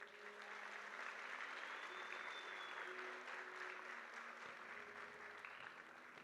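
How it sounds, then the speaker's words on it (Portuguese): An audience at a church service bursts into sustained applause, dense and even, carrying on steadily for several seconds and heard fairly faint from a distance. "Dá uma salva de palmas para isso"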